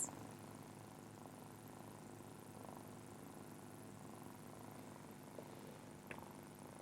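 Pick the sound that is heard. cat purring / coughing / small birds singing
cat purring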